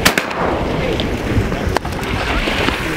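Gunshots during a duck hunt on the Missouri River, with a sharp report near the start and another around the middle, set against steady wind and water noise.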